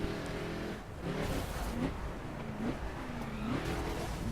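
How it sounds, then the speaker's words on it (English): A Chevrolet Camaro engine in the racing game The Crew roars steadily through a retro circuit race, its pitch climbing and dropping through repeated gear shifts, loud and constant throughout. "Or it just may sound louder, that already gives you the feeling that you're going faster"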